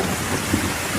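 Heavy rain pours down steadily with a low rumble of thunder underneath, one brief swell midway, dense and continuous throughout.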